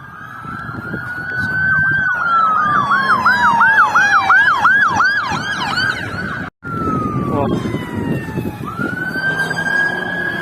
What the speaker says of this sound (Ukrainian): вже п'ята, шоста машина поліцейська женеться в ту сторону